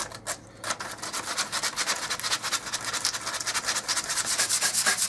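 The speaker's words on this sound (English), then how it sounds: "we're sanding off all the rough bits" Rapid, rhythmic rasping strokes of sandpaper rubbing the rough edges of a trailer side panel, steady and close, continuing throughout.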